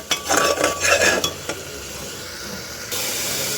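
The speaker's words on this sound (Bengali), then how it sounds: "শুধু এগুলো দিয়েই আমি ভালো করে কষাবো" A spice paste fries in a pan while a metal spoon stirs it in quick scraping clinks, then eases into a steady close sizzle and hiss with no talking.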